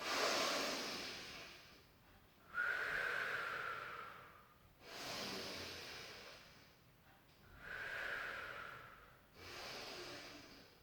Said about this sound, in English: take a lovely breath in